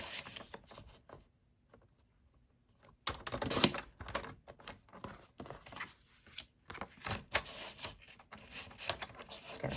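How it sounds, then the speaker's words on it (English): A paper cutter trims card strips, giving soft clicks, slides and sharp slicing scrapes, close and quiet, with a short silent pause before a busier run of cutting sounds. "we want to go ahead and place that back in our cutter, and we're going to cut it to 4 1/2 inches in length"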